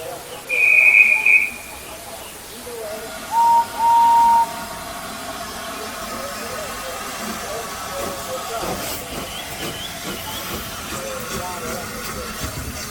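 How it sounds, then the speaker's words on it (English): Steam engine whistle sounding through fog, a short high shrill toot followed by two lower drawn-out blasts, set against steady hiss and rumbling rail noise. "He had never heard of a whistle like that before"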